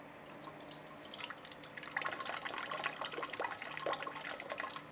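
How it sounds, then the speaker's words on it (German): Antifreeze coolant drains from an opened drain tap on a cooling system, a steady liquid trickle that swells into louder splashing and dripping partway through, close and continuous with no talking. "So, den Hahn einmal aufdrehen."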